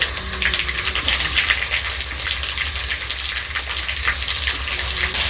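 Dense, loud sizzling of chopped onion frying in a pan after other ingredients were lightly fried, a constant crackle with rapid pops throughout, close by and without speech.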